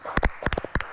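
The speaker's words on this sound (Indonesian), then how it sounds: "Tepuk tangan sekali lagi untuk" Scattered audience clapping at a talk-show style event on laser health technology for older people, a quick burst of several uneven, close hand claps within about a second.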